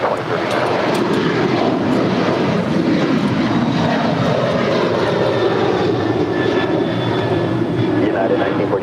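An airliner takes off at LAX with a loud, steady engine roar that holds throughout, heard close and continuous alongside faint radio chatter.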